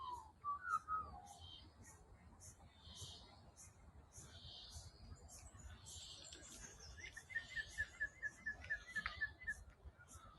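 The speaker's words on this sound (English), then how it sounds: "Can you hear the cicadas?" Cicadas droning in the Homebush Bay waterside bushland, a faint, rhythmic pulsing buzz in the distance, joined by scattered bird chirps and a trilling call.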